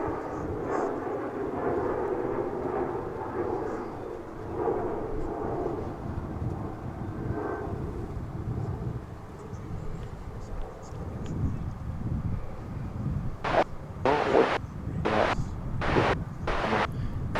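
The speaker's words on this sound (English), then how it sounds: "It's a Dreamliner 787-9." A Qantas Boeing 787-9 Dreamliner arriving at Dallas Fort Worth from Melbourne, its broad jet roar rumbling steadily throughout under wind buffeting, with brief bursts of talk near the end.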